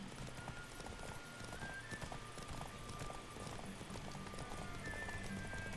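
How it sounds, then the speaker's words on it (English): A horse gallops in a video game, its hooves beating a quick, steady clip-clop that runs continuously at a faint level with game sounds around it. "I'm amazed how far I've been able to run with this horse"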